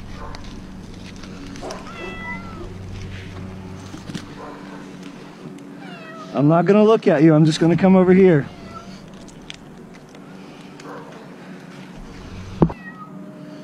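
A frightened stranded cat meows loudly several times in a row during a rescue in rough weather, while someone talks softly nearby and steady outdoor noise runs underneath.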